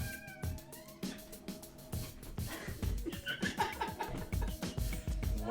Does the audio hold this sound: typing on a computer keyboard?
no